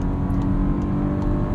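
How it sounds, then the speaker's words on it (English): A 2021 Volkswagen Atlas Cross Sport V6 SEL Premium engine hums steadily while driving, a smooth, quiet drone with road noise heard from inside the cabin. "The V6 is pretty quiet, pretty smooth. It sounds good at higher RPMs"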